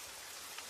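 Steady rain falling, a soft continuous hiss of drops drumming on a car roof, faint and even with no other sounds.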